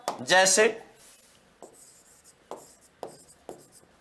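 During a Hindi class, a brief voice is followed by writing on a board: a series of short, distinct scratching strokes at an irregular, unhurried pace.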